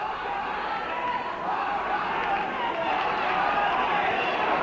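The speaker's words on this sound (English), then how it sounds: "The crowd urging Barker on." A crowd at a grappling match between Grant Barker and Mike McDonald roars steadily in a dense, continuous wash, with a commentator's voice talking over it throughout.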